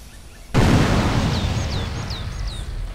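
A single loud grenade blast in GTA San Andreas with a weapon mod, a sudden sharp bang about half a second in followed by a long rumbling tail and faint debris chirps as it fades.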